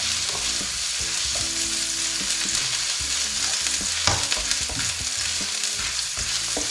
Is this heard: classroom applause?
no